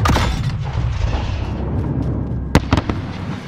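Explosion in a Modern Warfare game, a loud booming blast with a rumbling, crackling tail, followed by a few sharp pops near the end.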